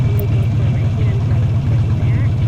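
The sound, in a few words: motorcycle engine as clutch is eased into friction zone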